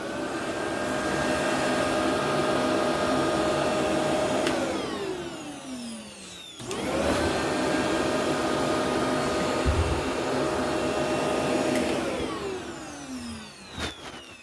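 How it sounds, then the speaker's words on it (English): A Shark Navigator NV355E Professional vacuum cleaner runs with a steady loud whine, spins down with a falling pitch, restarts, runs again and winds down a second time. "Okay, so here we go with the Shark Navigator NV355E Professional in 3,"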